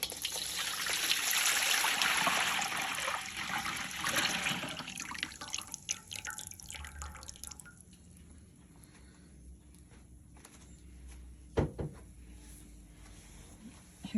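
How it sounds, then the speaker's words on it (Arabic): Milk being poured into a mixing bowl for making Upper Egyptian fayesh dough: a steady liquid trickle for several seconds that thins and fades, followed by quieter handling sounds and one sharp knock. "اول حاجه هنحط اللبن، كل اللبن ال4 كيلو."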